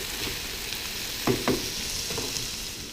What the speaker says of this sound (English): This is the onions getting fried.